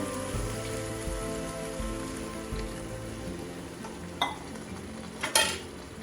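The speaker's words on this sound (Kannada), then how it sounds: "ಈಗ ಎಷ್ಟು ನೀರು ಬೇಕು ನೋಡಿಕೊಂಡು ನೀರು ಹಾಕ್ಕೊಳ್ಳಿ." Water goes into a pan of frying mushroom masala gravy, producing a close, steady hissing sizzle with a few sharp clinks and scrapes near the end, and no talking.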